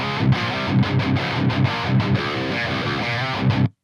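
Heavy metal electric guitar riff through a Toneforge Jeff Loomis overdrive with drive at zero and tone near 75, tight chugging palm-muted rhythm with short choppy gaps, loud and up front, cutting off abruptly at the end.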